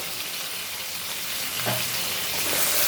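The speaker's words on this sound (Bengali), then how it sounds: "আমি এই কচুর সরিগুলোকে সুন্দর করে ভেজে নিব" Taro stolons fry in hot oil seasoned with cumin, a loud continuous sizzle and crackle close by, swelling slightly as the pieces settle in the pan.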